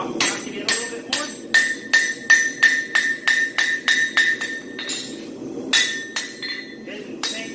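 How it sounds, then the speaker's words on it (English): Steady ringing hammer blows on a horseshoe on an anvil, a quick run of evenly spaced clanging strikes, then a pause and a few more, close and bright. "So I'm going to bring my hammer blow in at this angle and work all the way around to the edge"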